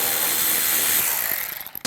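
A ratchet fitted with a 13mm socket loosens the brake caliper bracket bolts on a 2007-2013 Mini Cooper, producing loud, rapid clicking that breaks into separate clicks and stops.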